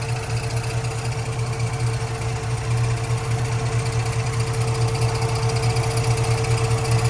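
A 1957 Chevy engine idles with an exhaust header leak, giving a loud, continuous rapid ticking over a steady low hum that stays constant throughout, with no voices.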